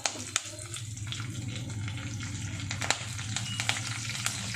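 A tempering of spices crackles and sizzles in hot oil for a raw banana curry, with sharp sporadic pops over a steady frying hiss, close and moderately quiet.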